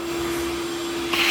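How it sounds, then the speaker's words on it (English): A shop vac roars steadily close by while cleaning leftover gum from the roof of a Lexus GX470 after the roof rack comes off, swelling slightly near the end. "shop vac."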